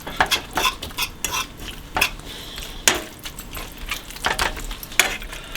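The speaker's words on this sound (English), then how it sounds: "You can see the onions are really starting to caramelize." Onions caramelizing in a pan are stirred with a utensil, producing quick scraping clacks in an uneven rhythm over a soft, steady sizzle, close and fairly loud.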